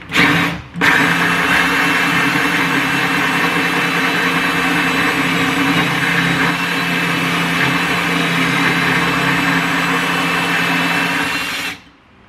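A power drill runs loud and steady nearby for about eleven seconds, a continuous whirring grind that stops abruptly.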